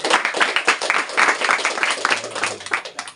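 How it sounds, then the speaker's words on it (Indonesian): Classroom applause during an arts and culture lesson on traditional music, a dense burst of many hands clapping close by for a few seconds. "tepuk tangan ya"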